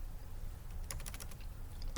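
A quick burst of light, close keystrokes rattles on a computer keyboard over a steady low background hum, then one last tap follows after a brief pause.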